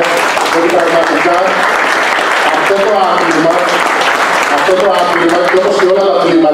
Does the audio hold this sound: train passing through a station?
no